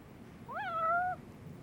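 A single cat meow sounds in the video game Lost Judgment, a clear rising-then-falling mew lasting about half a second, alone over quiet background noise.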